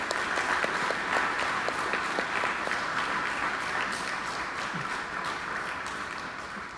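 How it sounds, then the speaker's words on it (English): Sustained audience applause at a Boy Scout Eagle Court of Honor for the troop's scouts, dense steady clapping throughout that slowly tapers toward the end. "Let's give them a round of applause."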